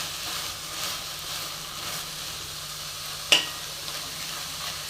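Spices roasting lightly in a pan for vegetable biryani give a steady, soft sizzle and crackle throughout, with one sharp brief tick partway through.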